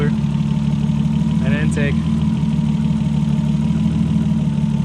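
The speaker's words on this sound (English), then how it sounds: "little RB20 that is idling like shit right now for some reason" A Nissan RB20 engine in an R32 Skyline, stock apart from the intercooler, idles roughly with a loud, steady low drone and slight unevenness; someone speaks briefly over it partway through.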